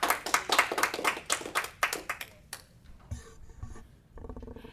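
Audience applause in a city council chamber following a public comment, dense clapping for about two and a half seconds that thins out and stops, leaving quiet room noise and faint shuffling.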